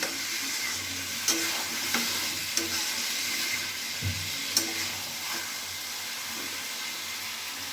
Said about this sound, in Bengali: দিয়ে একটু নাড়াচাড়া দিয়ে এবার আমি জল দিয়ে দেবো এটাকে